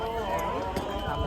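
A horse carrying a rider on a trail ride at Mahabaleshwar, its hooves clip-clopping at a steady pace under constant nearby chatter.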